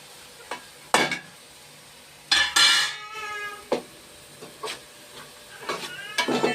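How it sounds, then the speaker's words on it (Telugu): Spoonfuls of chili powder are added to a cooking pot while making a tangy pulusu-style curry, with a few short scraping and tapping clinks and brief rustling bursts against a quiet kitchen background. "2 స్పూన్ల 3 స్పూన్లు కారం వేస్తున్నాను."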